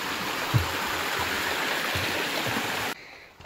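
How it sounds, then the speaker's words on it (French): Steady rushing of a flowing stream, close and continuous, with a few soft thumps before it cuts off abruptly near the end. "Donc là c'est un ruisseau qui mène à une montagne à mon avis."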